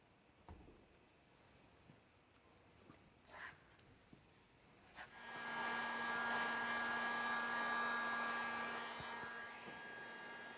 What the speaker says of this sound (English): Warm and blow the film where the seam occurs at the highest point.